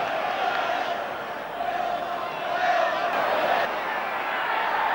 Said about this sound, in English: The Hull fans cheer.